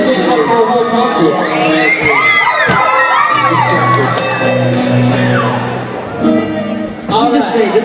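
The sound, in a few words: concert crowd cheering and shouting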